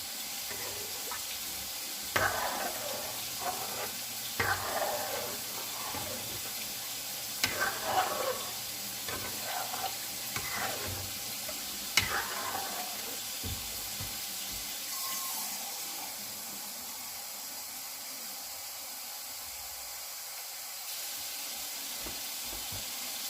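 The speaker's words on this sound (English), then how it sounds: "So this is 2 cups of water." Water pours into a pot of rice for Puerto Rican-style chili rice, giving a splashing, sizzling wash with several louder bursts early on before settling into a steady hiss.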